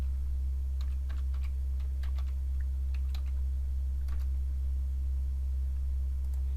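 Light, scattered keystrokes on a computer keyboard, a short burst of quiet clicks over a steady low electrical hum, with pauses between; no one speaks.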